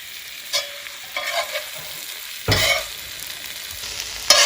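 Lamb keema stirred with fresh coriander in a frying pan, a soft continuous sizzle broken by several scraping stirs of a spoon, the loudest sweep midway and a sharp knock at the end.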